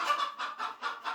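Chickens in a coop cluck in quick, rhythmic bursts, about five short clucks within a second, close and clear with no other sound.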